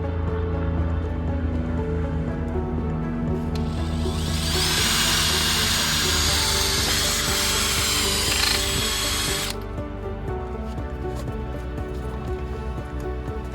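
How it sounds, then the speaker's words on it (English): A power drill whirs steadily for several seconds drilling weep holes in a sunroom glass roof frame over a constant low hum, then stops, leaving the background drone. "Okay, so now we have our weep holes drilled"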